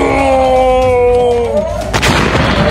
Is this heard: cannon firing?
yes